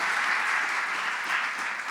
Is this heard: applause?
yes